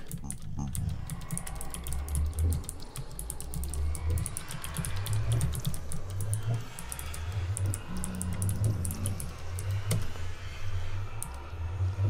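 Steady typing on a computer keyboard at a desk, a continuous fast patter of key clicks close to the microphone, with someone talking over it throughout.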